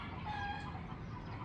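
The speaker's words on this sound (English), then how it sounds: "everybody's got chickens and roosters" Chickens and roosters on a city outskirts in the Philippines cluck softly at a distance in a short burst, over a steady hum of background noise.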